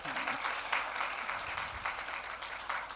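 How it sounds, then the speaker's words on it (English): Audience applause at a symposium talk, a steady wash of many hands clapping that holds evenly throughout, with no speech over it. "Okay, again, a clap for Dr. Porporino."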